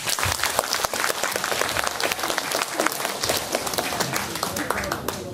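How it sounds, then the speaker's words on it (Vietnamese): Audience applause in a hall at a Buddhist retreat as a monk, once a café singer in California, is called onto the stage; dense steady clapping runs throughout, loud and close. "Ra đây cho chú Tệ hạnh một tràng pháo tay."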